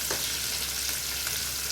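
Chopped onions and garlic sizzle steadily in hot oil in a pan as they roast for a dhaba-style spinach sabji, a dense, continuous close hiss with a few faint stirring scrapes.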